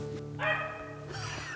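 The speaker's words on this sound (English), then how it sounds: "The dog's in here" A hunting dog on a rabbit hunt gives a short burst of yelping, whining barks at moderate distance, a few strained cries strung together over a low steady background hum.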